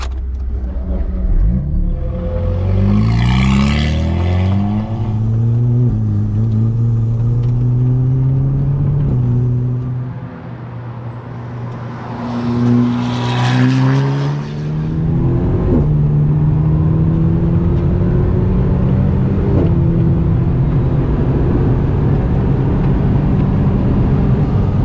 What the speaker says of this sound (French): on va voir ce que ça fait sur le circuit de Croix en Ternois, cette petite Alpine